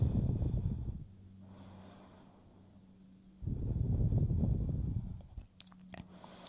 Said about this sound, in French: C'est donc une respiration basse abdominale